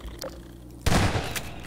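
Gunfire in the first-person shooter Half-Life 2: a sharp loud shot bursts in after a quieter stretch, followed by a rattling tail and another fainter report.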